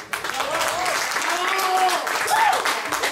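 Crowd applause at a graduation ball, a burst of clapping under a loud voice calling out over it.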